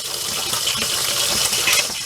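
Water gushing and splattering out of an RV water line while it is purged with pink antifreeze for winter, a steady, close, broadband splashing rush lasting the whole moment with no pause.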